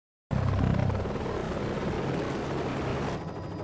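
A helicopter flies over the Makalali elephant reserve in South Africa, its engine and rotor a loud, steady, close roar that starts abruptly and continues without a break, with no talk.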